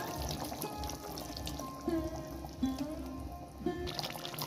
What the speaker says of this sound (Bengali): আর একটু জল দিতে হবে, কারণ মাছগুলো পুরো চোবেনি। একটু জল দিয়ে দিই।